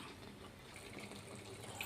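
Water poured into a cooking pot of large potatoes for dum aloo. A faint, steady, brief rush of filling liquid is heard on its own, with no talking.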